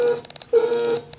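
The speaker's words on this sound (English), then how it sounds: "Oh man, that sounds like one of those old Buzz 1151 horns." Weak, buzzy old car horn on a 1966 Ford Thunderbird, two short honks of under half a second each with choppy, stuttering tone between, close by.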